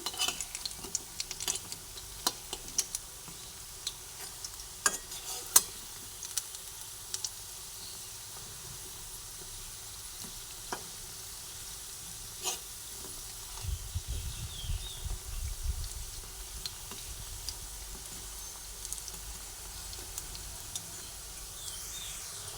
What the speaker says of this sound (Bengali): ভেজে এক এক করে সব উল্টে দিচ্ছি